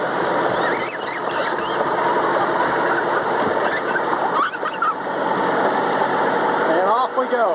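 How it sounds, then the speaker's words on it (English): A farm tractor, started up for a ride out to an apple orchard, runs with a steady engine rumble throughout, with voices talking and bird calls mixed in over it. "tractor started"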